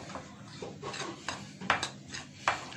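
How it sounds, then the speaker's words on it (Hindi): Soft scraping and light clinks come from a spoon working through onion pakora batter mixed with dry spices in a bowl, quiet and close, with no talking. "और अब मैं इसको मिक्स कर रहा हूँ।"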